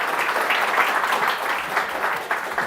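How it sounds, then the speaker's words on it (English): An audience gives a Demo Day presenter a round of applause, dense continuous clapping at steady loudness for the whole stretch. "Please, big round of applause for Juan Jose."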